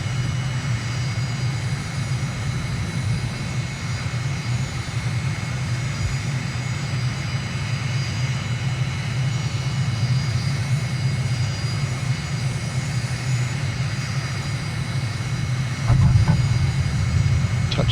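A MiG jet on landing rollout after touchdown in a strong crosswind, heard from inside as a steady, loud low engine roar with a constant whine, a brief thump and louder surge near the end.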